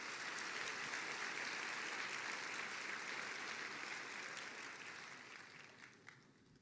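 A church congregation applauds steadily in a large room, dense continuous clapping that gradually thins and fades toward the end.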